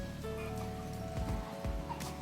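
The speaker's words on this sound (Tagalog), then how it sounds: "Pero umuulan oh. Grabe. Umuulan." Light rain patters steadily on a surface nearby, soft scattered drops with a faint background hum and a couple of dull knocks.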